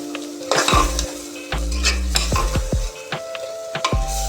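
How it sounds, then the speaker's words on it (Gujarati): Chickpea curry tempered in a pan makes intermittent sizzling bursts, with a spoon scraping and clinking against the metal in an irregular rhythm, close and fairly loud, with no talking. "તો આવી રીતે અમારા બા દેશી ચણાનું શાક વઘારે છે"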